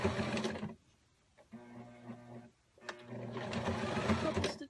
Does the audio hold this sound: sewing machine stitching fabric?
yes